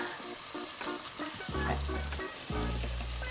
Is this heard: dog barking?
no